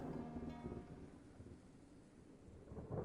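A thunderstorm in the game Talewarden, quiet rolling rumble of thunder with soft rain and wind, faint and continuous with a slight swell at the end, no voices.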